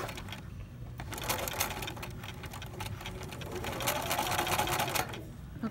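A sewing machine runs steadily for several seconds, stitching darts on a fabric pencil pouch with a dense, continuous mechanical rattle and a brief slowdown near the end.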